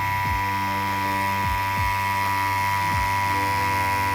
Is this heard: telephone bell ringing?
no